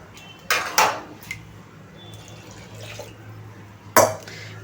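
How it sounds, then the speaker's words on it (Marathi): A glass of water is tipped into cooking dal and spinach in a pot. Two short splashing bursts are separated by a quiet pause, with faint kitchen clinks between them. "1 ग्लास पाणी टाकूया."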